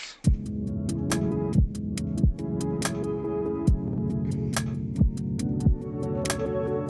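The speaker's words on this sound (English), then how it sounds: "a very simple kick line, 1 2 1 2." A booming programmed kick drum thumps in a simple repeating pattern with a deep pitch drop on each hit, over ticking hats and soft sustained chords.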